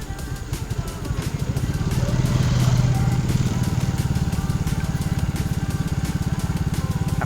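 A motorcycle engine runs steadily nearby with a rapid, even putter. It swells slightly louder midway, then settles back to a constant hum.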